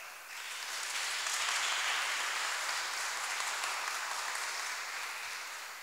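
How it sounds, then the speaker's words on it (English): A conference audience claps together for the organizers of a talk on reclaiming data cities. The steady, dense applause swells quickly, holds, then fades slightly, heard from within the room with no voices over it. "So I would like to make an applause to all of them"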